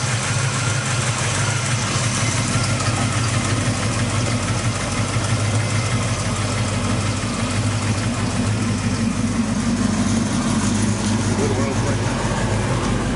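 A 1967 Chevy Nova with a 327 V8 idles steadily and loud, a deep even rumble that holds throughout while people talk over it.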